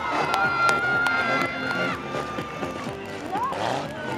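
Crowd noise at a stock car race in Saint-Junien, Limousin, with a steady roar of spectators and engines, shouts and a rising whistle-like tone near the end, while people talk over it.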